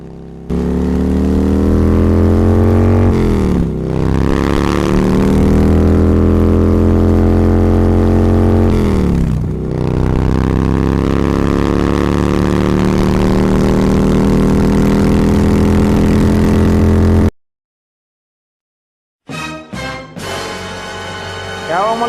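A car driven fast at high speed, a loud close engine drone rising and falling in pitch through several revs and gear changes, then cutting off before a brief burst of engine noise returns.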